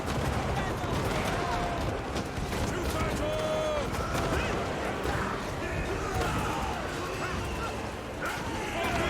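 Grenade launcher fire in a video game battle, with rattling bursts of shots that crackle steadily throughout, mixed with the clamor of the fight and voices talking over it.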